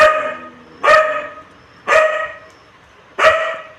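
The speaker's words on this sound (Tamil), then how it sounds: "குலைக்கிறா பாருங்க" A small pet dog barks three times, each a loud, close, sharp yelp spaced about a second apart, with quiet pauses between.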